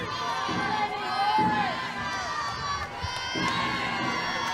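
A sold-out crowd at an LSU vs Texas college softball game in Austin cheers and shouts in a few bursts, with some whistles rising over the roar.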